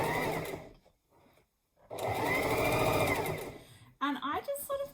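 A sewing machine stitches a bulky four-layer seam on a fabric wheat bag heat pack, running in two loud whirring bursts separated by a short pause, followed by a voice speaking.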